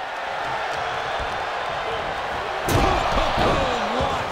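A heavy elbow strike lands in a WWE 2K23 wrestling match, a single loud slam-like impact over steady crowd roar, with a commentator's voice talking throughout.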